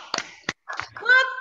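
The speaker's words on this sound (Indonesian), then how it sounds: "kita tepuk semangat dulu yuk" Young first-grade children in a classroom clap out a short, uneven 'tepuk semangat' rhythm together, with a few sharp hand claps mixed with their chanting voices.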